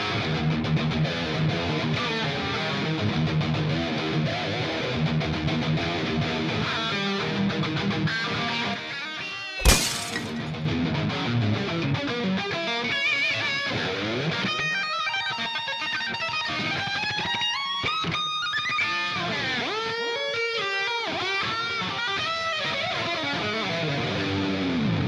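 Electric guitar shredding with heavy distortion on a metal performance stage, a long run of fast, sustained notes and bends over a steady loud bed, with one sharp thump partway through.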